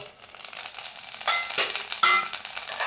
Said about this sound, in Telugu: నూనె వేడెక్కిన తర్వాత ఈ విధంగా వేసుకోవాలి ఇప్పుడు ఇవి ఇవన్నీ ఈ పోట్లో వేసుకోవాలి